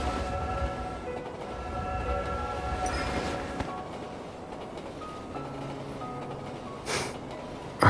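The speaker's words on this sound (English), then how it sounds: "Hold on tight. The train is about to leave." Departing train in the video game Love and Deepspace: steady rolling rumble with tonal hums and a rising whine, a brief bright hiss near the end, continuous and fairly close, with no talking.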